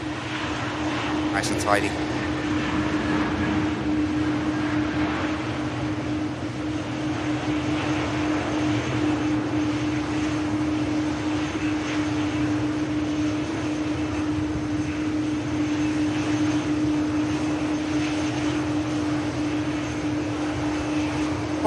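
A 12-year-old Boeing 787 Dreamliner touches down at Manchester Airport, its engines a steady, distant broadband roar with a faint sustained whine throughout, while a commentator talks over it.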